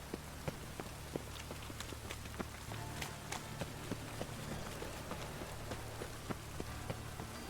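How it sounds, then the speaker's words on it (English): Steady rain falls in The Witcher 3 game, a constant hiss with scattered sharp drop ticks, fairly loud and alone without talk. "Looks like rain."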